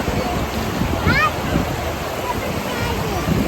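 Sea waves wash in steadily at Uchakotda beach where children are bathing, a continuous broadband rush of surf with faint voices and a brief high squeal in the mix.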